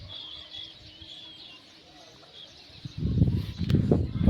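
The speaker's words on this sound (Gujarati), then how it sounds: "જો પક્ષીઓ ઉડે છે." Pigeons and other birds call softly over a farm field, high chirps fading before a loud burst of flapping wings as birds take off nearby.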